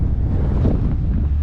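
Strong wind buffets the microphone at the Willow Springs race track, a steady loud rumbling gust with no other sounds.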